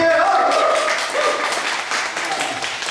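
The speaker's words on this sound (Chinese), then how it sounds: "大家掌声鼓励" A church congregation at Sunday worship applauds together, a dense, steady patter of many hands clapping indoors; a voice speaks over the start.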